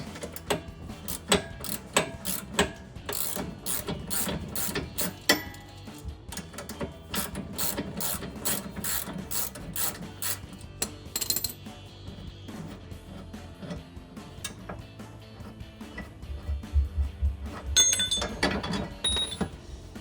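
A ratchet works loose the rear lower control arm bolt on a 2005-2014 Ford Mustang, with fast runs of sharp clicks in bursts, brief pauses and some metallic clanks, close and clear, without talk.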